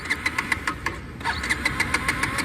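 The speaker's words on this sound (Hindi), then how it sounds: "बाइक नहीं चालू हो रही" A KTM Duke 250 motorcycle engine repeatedly fails to start, its starter cranking in a fast regular knocking pulse that breaks briefly in the middle and then resumes, near and loud, with no engine catching.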